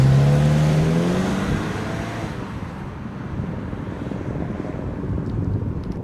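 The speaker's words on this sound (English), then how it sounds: "It's a little bit loud on the inside, so the road noise is about the same." A steady broadband roar of road and wind noise fills the cabin of a moving 2014 Mazda3 2.5L, loud and constant, with a rising engine tone early on and no talk.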